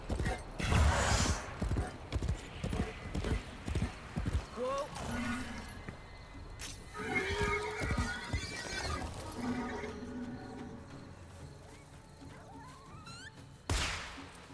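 Rhythmic hoof clip-clops in Warframe trot along at a steady pace, fading out midway, with game effects and a few other sounds around them.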